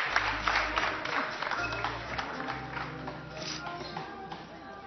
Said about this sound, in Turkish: Alkışlarınızla damat beyi buraya davet ediyorum